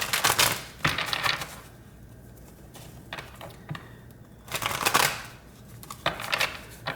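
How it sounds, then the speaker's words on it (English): Deck of cards being shuffled, sharp riffling bursts at the start, near one second and around five seconds, with lighter card handling between them. "let's get a few more shuffles"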